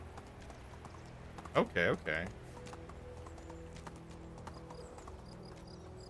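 Horse hooves clip-clop steadily in the Medieval Dynasty video game as the mount speeds up, a soft rhythmic trot running throughout while a person briefly speaks over it.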